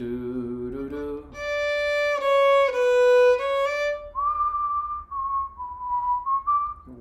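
A person whistles a short melody, clear sustained notes stepping between pitches with a few slides, close and alone.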